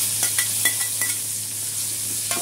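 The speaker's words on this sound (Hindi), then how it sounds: "अब ये प्याज को थोड़ा ब्राउन होने देंगे" Sliced large onion sautés in oil in a pan, a low steady sizzle broken by a few light spoon taps and stirring scrapes, heard close with no talking.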